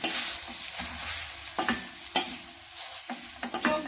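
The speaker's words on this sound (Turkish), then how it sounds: "Alıyorum ve karıştırıyorum" A spoon stirs cooked pasta in a pan off the heat, giving scattered scraping clicks and soft wet stirring over a faint sizzle, close by and without talk.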